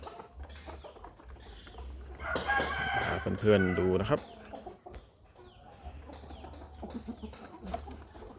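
Young Burmese fighting roosters crow loudly once in the middle, with scattered clucks around it, while someone talks quietly nearby.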